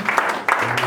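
Short burst of congregational applause at a church service, a few quick rounds of clapping close by, mixed with a voice speaking over it.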